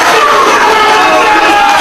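A wrestling crowd roars steadily behind the hometown tag team, the Motor City Machine Guns: a loud, sustained wall of cheering voices from a packed arena with no breaks.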